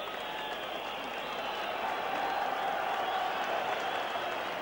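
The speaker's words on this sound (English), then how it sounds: "appreciation being shown by the crowd for it" Steady applause from a football crowd at a 1979 St Mirren v Celtic match, recognising an injured goalkeeper's courage; broad, even clapping that goes on throughout with a distant roar under it.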